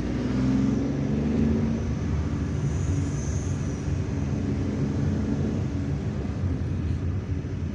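A Ford Fusion drives on a road in Algiers amid city traffic, heard as steady, loud, broad road and engine noise that rushes on without pause.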